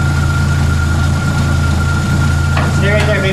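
A truck engine idles loudly and steadily up close with a deep, constant rumble while its throttle is adjusted, and a brief voice cuts in near the end.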